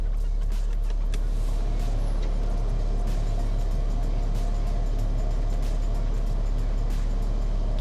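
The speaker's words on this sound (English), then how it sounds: "It is pumping up with air, so there's a little compressor in the boot, and that's really for getting over things." Air suspension compressor in the boot of a BMW X5 raising the car, a loud, steady mechanical hum and whir that holds without a break the whole time, with no voices.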